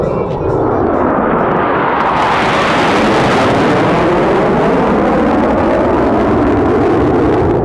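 Blue Angels jet aircraft making a flyby in the YSFlight simulator video game, a loud, continuous engine roar that swells and shifts in pitch as the jets pass close by.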